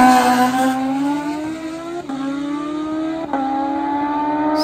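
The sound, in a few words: motorcycles drag racing side by side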